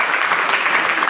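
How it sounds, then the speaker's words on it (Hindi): Dense, steady applause from a seminar audience at a talk on communication and confidence, a continuous wash of many hands clapping at once, fairly loud and close throughout with no voices standing out. "ताली बजा दो"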